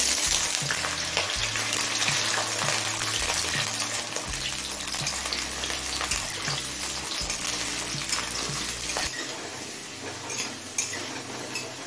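Small pieces of two medium potatoes frying in smoking-hot mustard oil over high flame, giving a loud continuous sizzle and crackle close by with occasional utensil clinks and stirring, with no voices.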